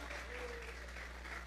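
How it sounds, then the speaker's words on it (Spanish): A church congregation applauds, a dense, steady wash of clapping from many hands that fills the room at low volume, heard alone. "Vamos a regalarle ofrenda de palmas al Dios de la gloria"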